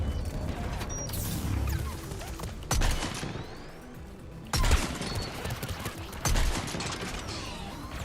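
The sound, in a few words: gunfire shooting a rocket out of the sky, Mass Effect 3 video game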